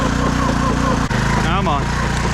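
A Honda 6x6 ATV stuck and digging in a mud hole, its engine droning steadily and straining under load, with a brief dip midway and a voice talking over it.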